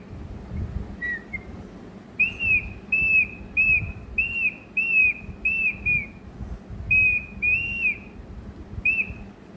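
A whistle blown in a series of short, shrill toots, about ten bursts in quick irregular rhythm, loud and close over a low background rumble.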